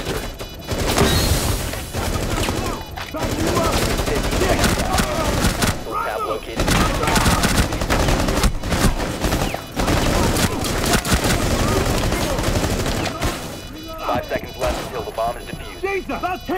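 Heavy gunfire from the Rainbow Six Siege video game during a bomb defusal round, with loud sustained bursts and thumping impacts filling the clip and brief pauses between volleys.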